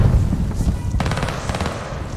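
Rapid automatic gunfire from a hardcore-mode shooter video game, a steady rattling burst of shots running through the clip at close range, loud and dense, with no talking over it.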